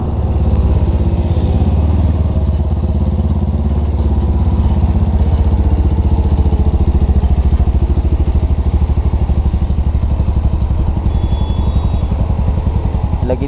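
Suzuki GS500 cafe racer motorcycle riding steadily after a U-turn, its engine thrumming loud and close in a continuous low rumble with light mechanical clatter, no rev spikes.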